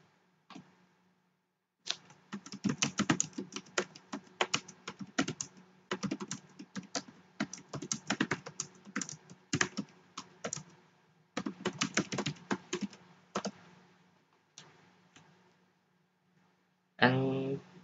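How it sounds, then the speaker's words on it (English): Bursts of fast keystrokes on a computer keyboard while typing words into Notepad, close and clear, coming in irregular runs with short pauses and a final clatter near the end. "Open Notepad apps and just type some words like example on this PDF."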